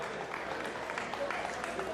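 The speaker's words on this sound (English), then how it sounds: "Round of applause" Steady applause from a crowd at a boxing press conference fills the whole stretch, with a few louder claps rising above it and voices mixed underneath.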